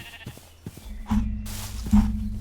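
A sheep bleats in the video game RLCraft with a few short nasal calls, the louder ones toward the end, over low game background sound.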